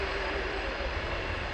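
Fiat G91R jet aircraft flying at the RIAT 2025 airshow, a steady, loud engine roar holding without break, with faint voices murmuring underneath.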